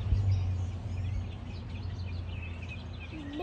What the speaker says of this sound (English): Maybe those birds are chirping.